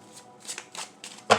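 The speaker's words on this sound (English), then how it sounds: "Let me shuffle these." Tarot cards being shuffled by hand in a few quick riffling bursts, the last one louder and crisper, with no talking.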